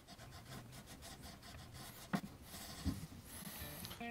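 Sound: rubbing a guitar fretboard with a fret eraser

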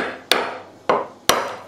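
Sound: hammer hitting a rusty antique bayonet

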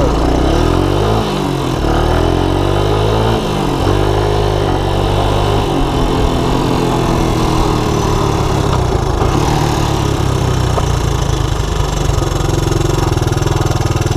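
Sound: Honda Big Red ATC200ES three-wheeler engine running

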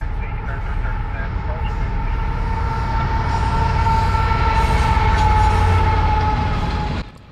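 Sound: CSX freight train with intermodal cars passing

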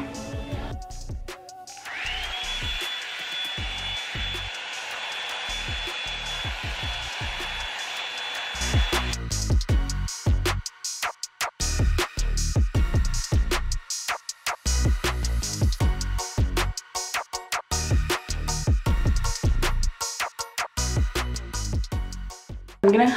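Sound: Revlon hair dryer brush blow-drying hair

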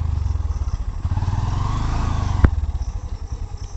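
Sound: motorcycle struggling on muddy off-road track

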